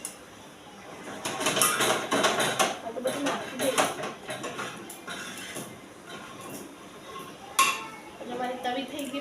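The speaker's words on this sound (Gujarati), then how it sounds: "મારી તવી થઈ ગઈ બગડી ગઈ છે પનીર શેકીને, એટલે સાઈડમાં મેકી દઉં છું એને ઠંડી થવા" An iron tawa griddle, just used for roasting paneer, being moved and set aside in a home kitchen, with several metallic clanks and scrapes of cookware amid clinks and background speech.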